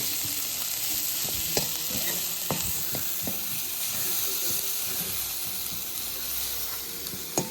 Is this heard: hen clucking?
no